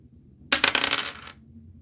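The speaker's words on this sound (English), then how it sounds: "All right, Shelly, coming up with the dice." Dice tossed during a live dice-rolling game land with a brief, bright clatter of rattling hard pieces that settles within about a second, close and fairly loud with no talk over it.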